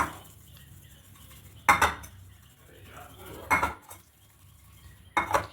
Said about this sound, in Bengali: এখানে সামান্য পরিমাণে হলুদ দেব আর একটু লবণ দেবো দিয়ে ডিমটা খুব ভালো করে মাখিয়ে নেব